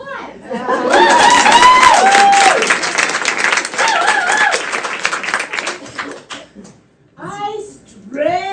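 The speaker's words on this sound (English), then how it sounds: "I will now hold for applause." Audience applause in a theatre, broad clapping rising and sustained for several seconds, mixed with children's voices and chatter over it, then fading before scattered voices return.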